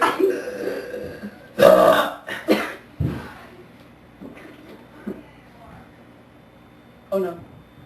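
Loud, deep belches erupt in several separate bursts of uneven length, the strongest near the start and another toward the end, with throaty coughing and bits of voice between them.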